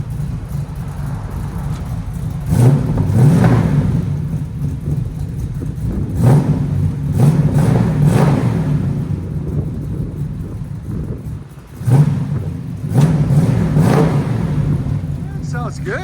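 A 1966 Chevy Nova II four-door V8 with true dual 2.5-inch exhaust and MagnaFlow mufflers idles with a deep, lumpy burble, then roars through three loud rev bursts spaced several seconds apart.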